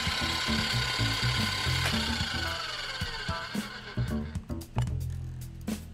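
An electric whisk mixes sugar in the cooking game Cooking Simulator, giving a steady whirring, rattling mechanical drone that runs loud and close through the whole stretch, with clunky kitchen clatter layered on top.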